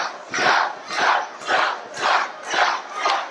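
A wrestling crowd at a Port St. Lucie show roars in rhythmic waves, about six evenly spaced surges of cheering and chanting that rise and fall roughly every half second, loud and with no commentary over it.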